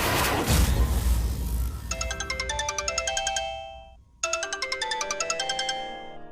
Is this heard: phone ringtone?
yes